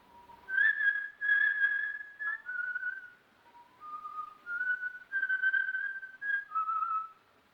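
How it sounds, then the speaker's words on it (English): A person whistles the sextet from Lucia, the tune linked to the Scarface film, as a clear solo melody of sustained and gliding notes in several phrases with short pauses between them. "every time he went to kill somebody, he whistled the sextet from Lucia"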